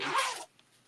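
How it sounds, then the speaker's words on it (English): The zipper on a sewn accordion clutch is pulled apart in one quick, close, scratchy rip lasting about half a second, followed by quiet handling. "Do we have to separate the zipper?"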